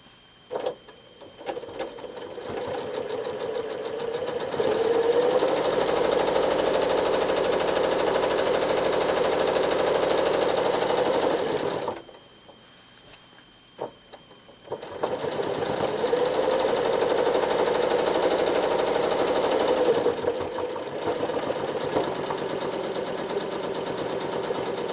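A domestic sewing machine stitches free-motion quilting through sashing, humming in two long steady runs of rapid needle chatter separated by a few seconds of near silence.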